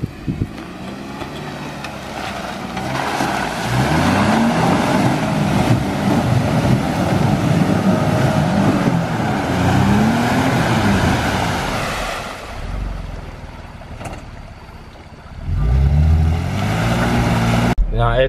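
A lifted truck on mud tires churns through deep ruts in a muddy trail, its engine droning loudly under heavy wind buffeting on the microphone, with a short lull near the end before the motor surges again.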